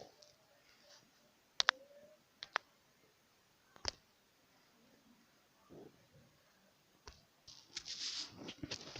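Sharp computer mouse clicks, a handful spaced irregularly over several seconds, close and fairly loud against a quiet room with faint background rustle.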